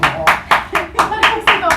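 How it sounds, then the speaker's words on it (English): Hand clapping in quick, steady rhythm, about eight sharp claps close to the microphone, with a voice faintly audible between them. "Stop clapping."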